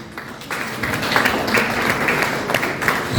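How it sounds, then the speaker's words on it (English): Applause from an audience at a Federal Competition and Consumer Protection Commission of Nigeria ceremony honouring groups such as food hygiene initiatives: a steady, dense wash of many hands clapping that swells slightly and holds for about three seconds, with no talk over it. "Can we welcome all of them with a round of applause?"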